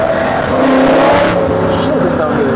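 A Lamborghini Aventador LP700-4 V12 engine revs loud and close with a high, shrieking race-car tone that rises and falls. Voices speak over it.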